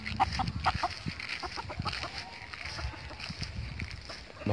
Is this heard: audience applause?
no